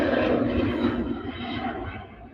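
An Airbus A350-1000 taking off at Manchester Airport, a broad, loud engine roar that holds steady and then slowly fades as the jet climbs away.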